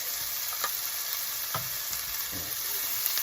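Garlic sizzles in a pan alongside bacon and vegetables for twice-baked potatoes, a steady close frying hiss with a few soft stirring scrapes and no talk.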